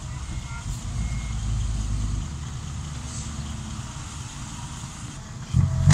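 A Fuso truck engine idles with a steady low rumble, a heavier surge around the first two seconds, and a brief louder burst near the end; no talking.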